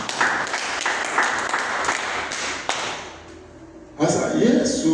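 Church congregation clapping in a broad, dense burst, with a short lull before a louder swell of applause near the end; a voice speaks over it.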